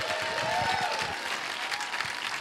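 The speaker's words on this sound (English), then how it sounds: "we're gonna give another round of applause to those amazing teachers." An education conference audience applauds teachers with dense, continuous clapping from a large crowd, fairly distant and steady throughout the short stretch.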